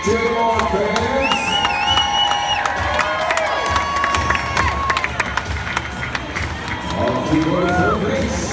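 Baseball fans cheering and shouting in a stadium crowd during a between-innings base-brushing race with a giant toothbrush mascot, loud continuous roar with children's shouts, whistles and claps, swelling again near the end.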